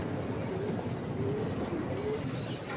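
Silver Sundori pigeons cooing at a pigeon sale, a soft, steady low murmur of coos with faint chirps, fairly distant and continuous, with no one talking.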